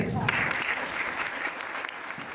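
A church congregation at a Pentecost service claps steadily throughout, a dense, continuous patter of applause close by and fairly loud, with a voice faintly under it.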